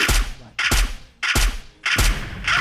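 Gunfire in a video game comes as four loud, close bursts roughly half a second apart, each a harsh, booming blast separated by brief quieter gaps.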